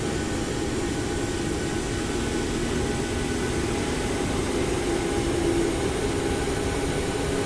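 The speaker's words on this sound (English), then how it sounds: "Man, there's some good sounding engines there." Boeing 737 MAX 8 jet engines in a flight simulator, a steady continuous roar and whine holding evenly throughout with no talk over it.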